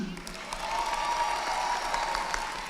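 Audience applause at a college commencement ceremony, a short burst of steady clapping heard from a distance in a large hall, with a voice speaking faintly beneath it.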